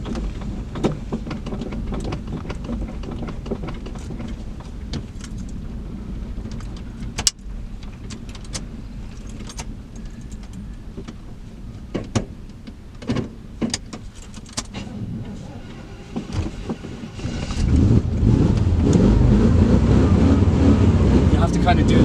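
A 1991 Chevrolet Suburban runs with its engine at a steady rumble while people talk over it, with scattered clicks and knocks throughout, and the engine noise grows louder and fuller near the end.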